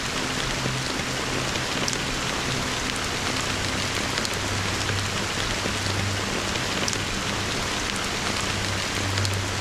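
Rain in the Honkai: Star Rail video game pours steadily as an even, close hiss of drops on surfaces over a faint low hum, with no voices.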